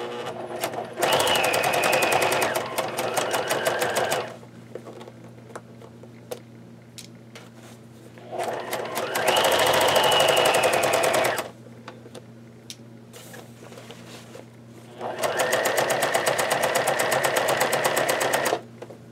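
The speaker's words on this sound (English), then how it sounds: "I'm going to actually switch my zipper foot so that it's basically sewing on the other side." A sewing machine fitted with a zipper foot sews a zipper onto a bag in three bursts of fast, even stitching, each a few seconds long. Quieter pauses separate the bursts, and no voice is heard.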